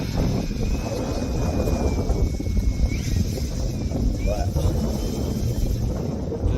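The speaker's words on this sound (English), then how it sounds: "That wind is crazy." Strong gusty wind of about 18 to 20 mph buffets the microphone at an outdoor RC plane flying field, producing loud, continuous low rumbling throughout.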